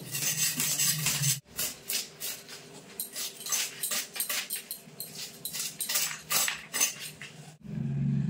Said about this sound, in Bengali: এখন অপর পিঠের আঁশ একইভাবে ছাড়িয়ে নেব